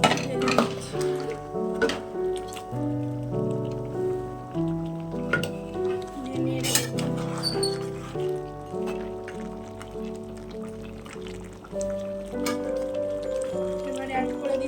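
Boiled mutton is tipped into a pan for a village-style mutton curry, with metal pots and utensils clinking in a few sharp chinks over steady background music.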